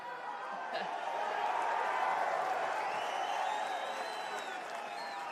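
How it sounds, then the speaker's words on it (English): Crowd cheering and applauding at a UFC 305 press conference in Perth, a distant, sustained wash of cheers and clapping from a large audience with faint whistles, steady throughout rather than building. "this is more crazy than I expected the Perth crowd to be"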